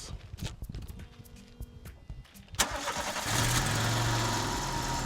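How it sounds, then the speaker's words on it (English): A car engine fitted with a cone air filter cranks and catches, then settles into a steady, throaty idle that fills the rest of the recording. "the cone filter actually makes my car sound so much better"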